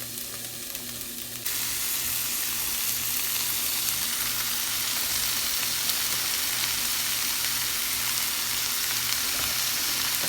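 Steak and onions sizzle steadily on a griddle for a Philly cheesesteak, a loud continuous broadband frying hiss that jumps up after a moment and holds without any talking.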